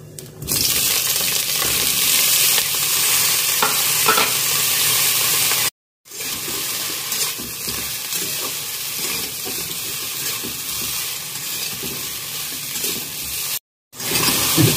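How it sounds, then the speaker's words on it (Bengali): Slices of ridge gourd frying in hot oil give a loud, steady crackling sizzle close up. It runs continuously and is cut by two brief silences, with no speech. "তেল হয়ে গেছে, এবার আমি ঝিঙেগুলো ছাড়ছি।"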